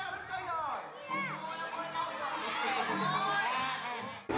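More than 300 first-grade pupils at the Thang Long water puppet theatre in Hanoi, their excited cheering, shrieking and chatter forming a dense, continuous crowd of children's voices.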